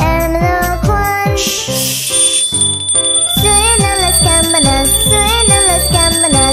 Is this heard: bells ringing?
yes